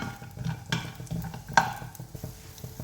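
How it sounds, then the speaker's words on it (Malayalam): Peanuts roasting in a little oil in a pan make a faint, soft sizzle broken by light scraping and tapping from stirring, with a single sharper clink partway through. "കടലയൊന്ന് വറുത്തെടുക്കാം"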